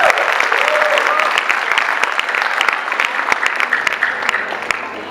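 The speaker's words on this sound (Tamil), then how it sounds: "பலத்த கைத்தட்டோட" Loud applause from the crowd at a Tamil New Year music show, energetic clapping with sharp individual claps on top that slowly eases off as a low tone from the stage sound system hums underneath.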